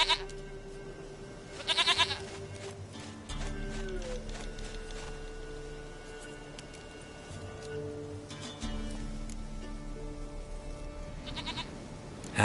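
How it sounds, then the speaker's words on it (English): A goat in a video game bleats several times, sharp nasal cries near the start, middle and end, over quiet ambient game music with a faint low hum. "Goat of mine, dearest, sweetest goat."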